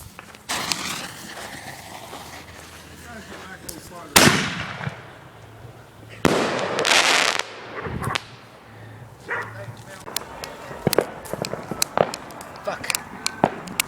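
New Year's fireworks and firecrackers go off outdoors: sharp cracks and loud bursts, some with longer crackling hisses, scattered irregularly, with strings of rapid pops toward the end and people talking in between.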